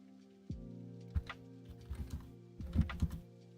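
Typing on a computer keyboard, close and quiet: an irregular patter of key clicks in small bursts, with a short pause between clusters and no voices.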